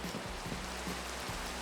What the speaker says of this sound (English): Sounds like rain.